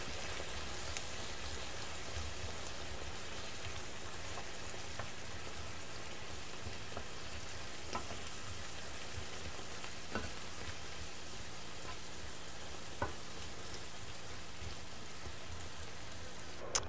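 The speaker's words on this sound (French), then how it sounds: "Ensuite, on couvre et on laisse mijoter pendant 6 à 7 minutes" Tomato sauce made with tomato paste and water simmers in a pan for ojja merguez, a soft, steady bubbling and sizzling hiss with faint scattered pops, no voices over it.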